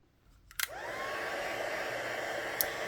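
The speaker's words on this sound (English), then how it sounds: "then I'm going to heat set that as well." A card-making heat tool clicks on with a couple of sharp switch sounds, then settles into a close, steady fan whoosh while heat-setting embossing powder on a card.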